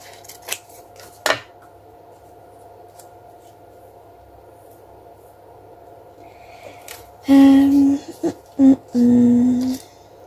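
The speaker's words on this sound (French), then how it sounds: "Je vais juste couper un petit peu là." Scissors snipping paper for a vintage craft card, a few faint clicks early on, then several close, loud cutting strokes in quick succession near the end, with no voices.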